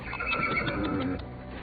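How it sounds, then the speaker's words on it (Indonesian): A wild horse being tamed lets out a loud, close neigh. The whinny lasts just over a second, then fades into a quieter tail, with no speech. "seekor kuda liar berhasil dijinakkan Juan dengan mudah"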